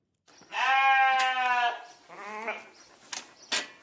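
Sheep bleat on a farm in Savoie: one long, loud, close bleat followed by a shorter second bleat and a few faint rustles and knocks.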